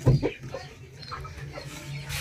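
Aseel chickens at feeding time give a few short, close clucks near the start, then only soft, sparse sounds over a faint steady hum.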